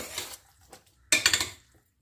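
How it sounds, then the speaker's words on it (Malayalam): A spoon clanks and scrapes against a pan while salt is stirred into chicken gravy: a couple of soft scrapes, then a brief burst of quick metallic knocks before it falls quiet. "ചേർത്ത ഉപ്പ് ഇളക്കി യോജിപ്പിച്ചെടുക്കാം."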